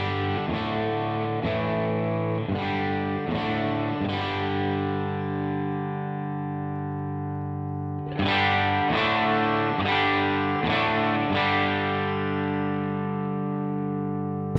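Electric guitar played through a Two-Rock Classic Reverb Signature amp, with its contour control turned toward the brighter tones: sustained, ringing chords strummed in two phrases, the second brighter and slightly louder, alone without talk.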